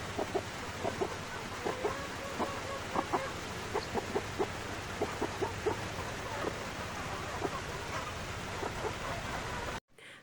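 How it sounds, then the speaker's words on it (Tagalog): Chickens in a small crowded coop cluck in short, repeated bursts, a busy stream of calls over a faint steady background hum, then a sudden cut near the end. "Maliit ang kubo kaya nagkakagulo ang mga manok."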